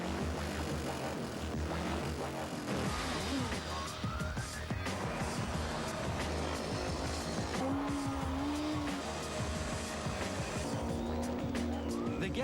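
Motorbikes racing at Gatton International Speedway, a busy blend of engines revving and passing with rising and falling pitch, tire noise and a faint voice in the mix, continuous and fairly loud throughout.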